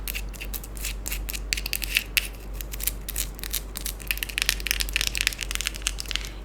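Fingertips tap and scratch quickly on light, airy macarons with filling, making dense, crisp clicks and crunchy scrapes close up over a low steady hum.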